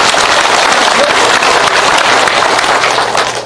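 Loud, dense applause from a large crowd of Vietnam War veterans at a lecture in Gwangju, steady throughout and tapering slightly at the end.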